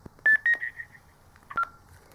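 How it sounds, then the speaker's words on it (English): A Kirisun S780 two-way radio sounds its private call alert: a short run of quiet electronic beeps, two quick tones fading into a held note, then one more brief beep, heard alone. "If the radio receives a private call, it does this noise."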